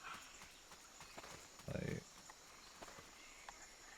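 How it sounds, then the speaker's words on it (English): Footsteps in the video game Metal Gear Solid: Peace Walker on PS3, a short run of soft, muffled steps over faint ambient background hum, with one louder thudding burst in the middle. "I heard Footsteps."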